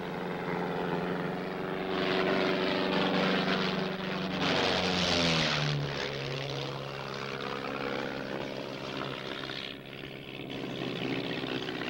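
A propeller airplane passes overhead on Christmas Day, its engine drone swelling loudly as it nears, dropping in pitch as it goes by, then fading away.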